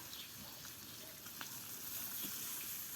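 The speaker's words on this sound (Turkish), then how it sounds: "Balık kızartacağım." Steady hissing sizzle of fish frying in a pan, with faint crackles and pops throughout, close and fairly quiet.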